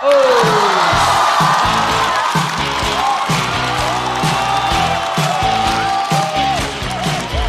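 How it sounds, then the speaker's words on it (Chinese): At a stand-up comedy show, the audience cheers, whoops and applauds loudly as comedian Jia Hao is welcomed on stage, with a steady crowd roar mixed with bright music. "掌声欢迎贾浩"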